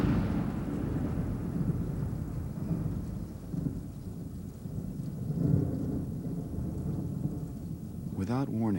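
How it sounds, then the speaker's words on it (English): Rolling thunder rumbles low and steady through a warm, humid storm, swelling around the middle, with a sharper burst near the end like a lightning crack; rain hiss sits faintly underneath. "a crack of lightning and boom of thunder rip through the warm, humid air"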